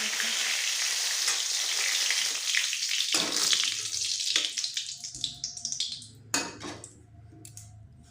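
A bay leaf hits hot oil with a loud burst of sizzling that fades into sputtering pops. Metallic clinks of a utensil against the pan follow as the frying quiets.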